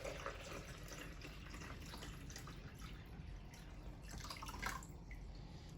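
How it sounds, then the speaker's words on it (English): Water and sterilising fluid pouring into the tank of a Tommee Tippee Perfect Prep machine: a soft, steady trickling and splashing, close and faint, with no talk. "I've got some more water and sterilising fluid to fill the tank to the top."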